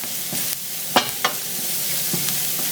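Butter melting and sizzling in a hot pan for cumin spaghetti, a steady close hiss punctuated by two or three quick spatula scrapes and stirs.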